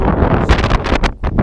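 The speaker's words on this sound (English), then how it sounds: "I bet all you heard there was just wind that sounded like this" Wind gusts buffet the microphone outdoors during a blizzard, loud and close, with rough surging rumbles and uneven bursts across a short stretch and no speech.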